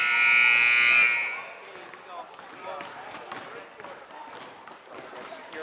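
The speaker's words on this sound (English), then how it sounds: "You hear the buzzer, we're ready to get going." A loud, harsh buzzer at a fifth-grade girls' basketball game sounds for about a second in a gym, then fades into crowd noise, sneaker squeaks and bouncing balls under a commentator's voice.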